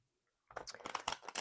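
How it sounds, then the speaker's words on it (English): A deck of cards is shuffled close by during a pick-a-pile reading, giving a short burst of rapid riffling and flicking that starts after a brief silence and lasts about a second. "Let me just shuffle these and just get a few more words."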